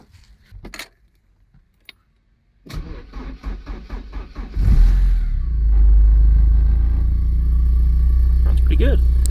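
Keys jingle, then a Porsche 944 engine cranks in quick repeated bursts before catching and settling into a loud, steady idle rumble.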